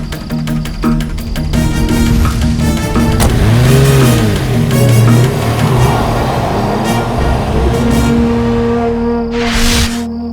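An expensive car's engine revs at night in a CID TV episode, a loud sustained drone with rising and falling swells and steady tonal layers running for about ten seconds, without speech.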